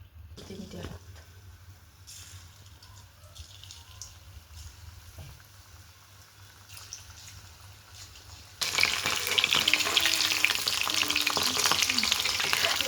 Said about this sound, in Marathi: आता तेल तापलं की त्याच्यात भजे सोडते